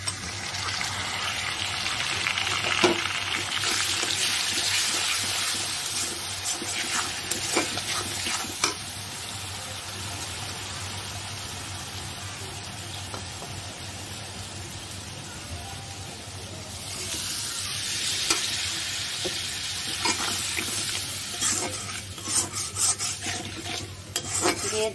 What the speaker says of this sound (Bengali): পেঁয়াজটা হালকা বাদামি করে ভেজে নিয়ে আমি মশলাগুলো দিয়ে দিচ্ছি।